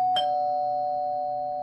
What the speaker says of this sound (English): the bell rang